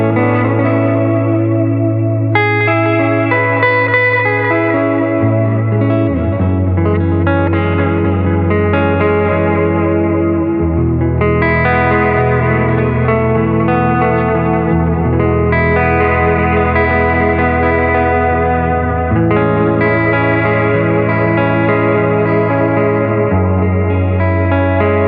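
Electric guitar chords and notes through a Boss RV-500 reverb pedal and a Silktone Parallel 25-watt single-ended Class A amplifier ring out with heavy reverb and shimmering chorus-like effects, sustained and washy, played continuously with no talking.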